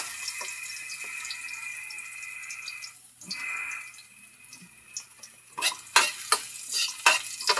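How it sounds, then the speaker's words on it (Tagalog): Garlic sautéing in a pan, a steady close sizzle that dips briefly, then gives way to a series of sharp clicks and scrapes from stirring toward the end. "Gisa-gisa. Sunod ay ang bawang."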